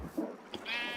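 A sheep in Minecraft gives a short bleat, close and fairly clear, with a few small game sounds around it.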